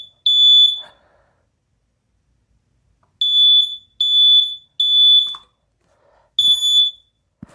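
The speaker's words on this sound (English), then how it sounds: "Alright, this smoke detector need to be replaced." Household smoke detector being tested, giving loud piercing high-pitched beeps in irregular bursts with silent gaps between them, close and alone.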